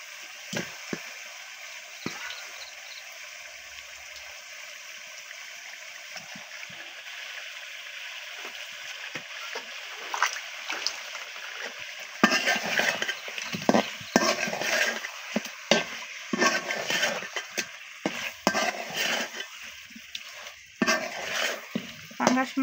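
Spice paste frying with pieces of pangas fish in a pan, a continuous sizzle joined midway by busier scraping, stirring and clinks of utensil on pan, close and fairly loud, no voices.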